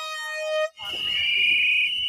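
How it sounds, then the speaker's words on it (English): An air horn blares at a street protest, a loud sustained tone that breaks off and gives way to a shrill continuous whistle over crowd noise. "when they're blowing whistles and doing air horns like that and making all that noise"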